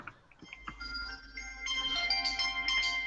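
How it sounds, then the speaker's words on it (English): A phone ringtone plays a short electronic melody of bright repeating tones. It starts with a few scattered notes, then grows louder and fuller, with no speech over it. "Do you have a phone call?"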